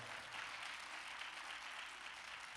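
An audience at a sheriff candidates' forum claps in a soft, steady patter that sounds fairly distant and even, with no speech over it.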